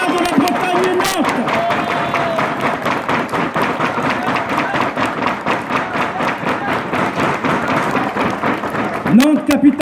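Audience at a Breton pardon festival clapping in a dense, rhythmic burst of applause, loud and near, with voices mixed in under the clapping.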